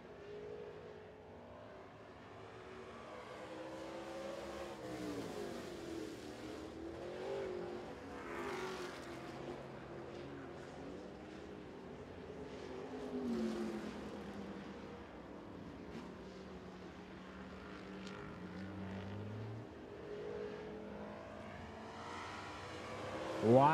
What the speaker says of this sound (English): Cars are spreading out just a little bit now as we roll into this heat race number one for the street stocks